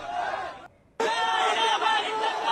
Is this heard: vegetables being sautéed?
no